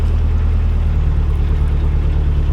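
A canal narrowboat's engine throbs steadily as the boat cruises along the Macclesfield canal toward High Lane. The low, loud, continuous rumble sits close by with no talk over it.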